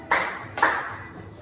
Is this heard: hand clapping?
yes